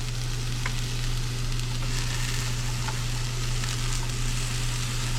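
Jarred minced garlic toasting in a dry porcelain-coated pan with no fat, giving a steady, close sizzle with faint stirring over a constant low hum, and no talking.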